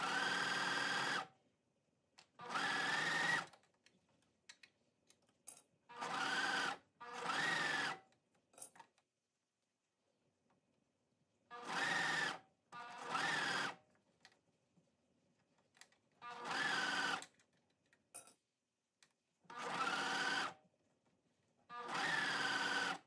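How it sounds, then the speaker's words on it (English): Serger stitching elastic onto swimsuit fabric, running in short loud bursts of rapid mechanical whirring separated by quiet pauses, close up with no talking. "I'm just going to keep this lined up with the edge of my fabric and serge it on."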